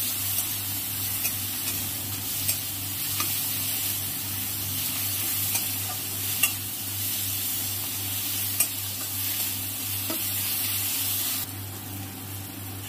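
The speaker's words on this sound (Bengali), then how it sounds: "স্বাদ মতো হলুদ দিয়ে দিলাম। এবার নাড়িয়ে চাড়িয়ে নিলাম।" Food seasoned with turmeric and salt sizzles in a pan while being stirred, a steady close frying hiss with scattered scraping clicks of the spatula, no voices.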